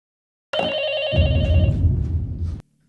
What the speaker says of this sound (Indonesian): Scott langsung mengangkat telepon yang berdering